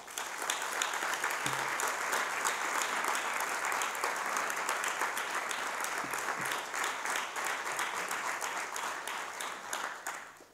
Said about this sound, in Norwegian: det mener jeg de fortjener en applaus for